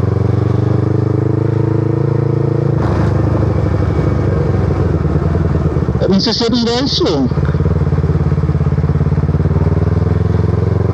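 A motorcycle is ridden on a road in Lenggong, its engine droning steadily up close with a rise in revs partway through, while a rider briefly speaks over it.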